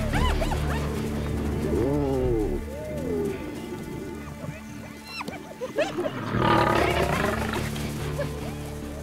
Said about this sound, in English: The noise level builds as the hyenas call for reinforcements.